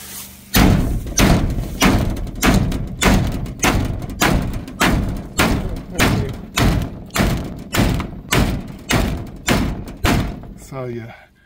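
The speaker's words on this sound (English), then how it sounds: "grab a hammer so we can pound that flat" Metal on a vintage camper is pounded flat with a hammer: about fourteen heavy, evenly spaced blows, loud and close, landing roughly every three quarters of a second before stopping.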